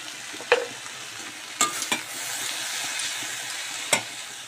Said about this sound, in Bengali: এবার আমি ভালো করে এটাকে নাড়িয়ে নেব